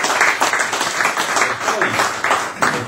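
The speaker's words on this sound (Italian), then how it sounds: "Innanzitutto un applauso a Eleonora" Applause from the audience at a public debate in Italy, with dense, uneven clapping rising and falling in loose waves for a few seconds.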